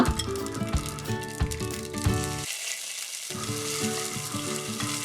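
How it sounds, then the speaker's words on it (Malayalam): Mustard seeds, dried chillies and curry leaves fry in hot oil in a pan with a steady close sizzle, broken by crackles and clinks of a spoon and a brief quieter lull midway. "പാൻ വെച്ച് അതിലേക്ക് എണ്ണ ചൂടാകുമ്പോൾ കടുകിടാം. വറ്റൽമുളക്, കറിവേപ്പില,"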